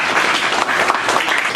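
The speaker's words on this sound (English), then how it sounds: "Please give Dom a round of applause." Board members applauding Dom of the media committee at a community board meeting, a short, even burst of group clapping that stays loud and close throughout, with no voices over it.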